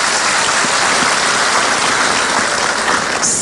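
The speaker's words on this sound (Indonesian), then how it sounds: "Tepuk tangan buat Pak Rektor kita." A studio audience at a televised religious talk show gives the university rector dense, steady applause, a continuous wash of clapping with no pauses.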